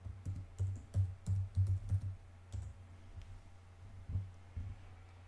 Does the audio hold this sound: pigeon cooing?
no